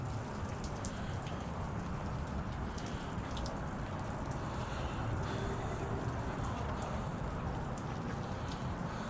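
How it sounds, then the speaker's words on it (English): Rain falls steadily on a cold, cloudy morning in Phoenix, a soft constant patter with scattered sharper drips on nearby surfaces and no talking. "Way cold and it's raining."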